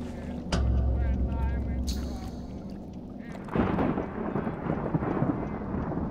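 Thunder rolls in Bioshock Infinite, a deep rumble arriving partway through and spreading into a long noisy wash, following a stretch of ambient sounds and a brief voice.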